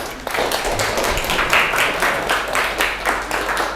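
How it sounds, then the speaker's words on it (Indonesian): Classroom applause for a student group finishing their presentation, a dense steady burst of many hands clapping close by, sustained throughout with no talking over it. "Beri aplaus untuk kelompok"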